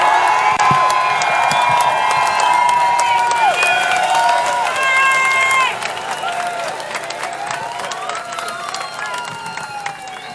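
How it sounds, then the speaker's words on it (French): A protest crowd at a Montreal demonstration applauds police officers, with sustained loud clapping, cheers and shouts, whistles and voices filling the air throughout, dense and close. "Je pense qu'ils sont contents, les policiers, là, de se faire applaudir comme ça leur fait du bien."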